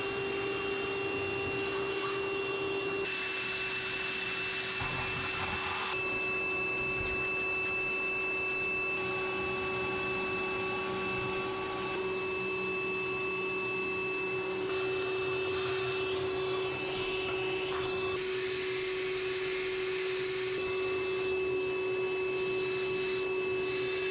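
A shop vacuum cleans dirt and debris off the rocker arm assembly of an abandoned 1958 Apache pickup engine, a steady loud whine running throughout with its pitch and intensity rising and dropping as the nozzle moves.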